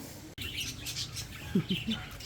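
Pet parakeets chirp in short, high bursts close by, mixed with someone speaking.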